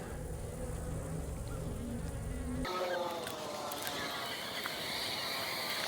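Honey bees buzzing around an open hive during an inspection, a soft steady drone with a shift in tone partway through, with no talking.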